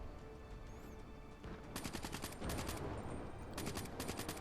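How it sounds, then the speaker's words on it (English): Call of Duty Black Ops 3 gunfire fired through a thin wall, with rapid automatic bursts in two separate volleys over a steady game backdrop, loud and close. "Oh yeah, I could just shoot him through the wall."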